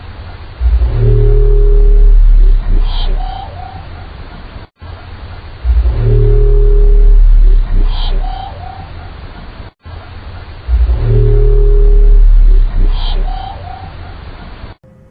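A titanium microphone deep in Challenger Deep, Mariana Trench, picks up loud low rumbling with faint tonal calls, in a short stretch that repeats three times.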